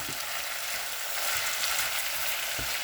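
Chicken ginger karahi with ground coriander being stirred in a hot pan: a dense, continuous sizzle with soft low thumps and scrapes from the spoon, close and fairly loud.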